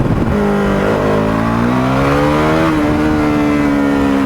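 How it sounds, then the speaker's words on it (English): KTM RC390 motorcycle accelerating as the throttle opens, a loud close engine note climbing steadily in pitch through the gears over several seconds, with constant wind rush underneath. "Open up the throttle a little bit, and then you've safely overtaken them."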